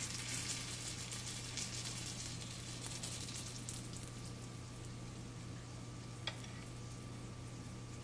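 A ghee-brushed paratha cooks in a pan over low heat, making a soft, steady sizzle and faint crackle throughout with one brief tick near the end.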